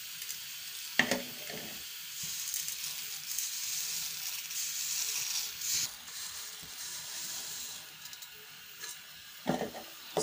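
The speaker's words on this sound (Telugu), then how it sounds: "ఇప్పుడు మనం అందులోకి సేమియా వేసుకుందాం" Vermicelli (semiya) poured into hot milk for payasam brings a soft, steady sizzling hiss, with a few clinks and knocks from the pot and spoon scattered through it.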